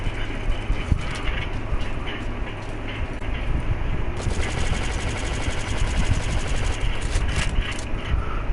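Sustained rapid gunfire in Metal Gear Survive, a dense, loud rattle of shots running continuously over a rumbling low backdrop, with brief bursts of sharper cracks throughout.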